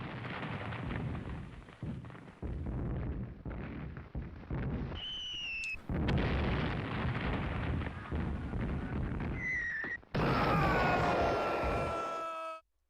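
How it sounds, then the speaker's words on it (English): Grenade explosions in a video game, heavy booming blasts running on continuously over about thirteen seconds with rising whistling tones and crackling debris, loud throughout. "And the explosions don't even hurt anybody."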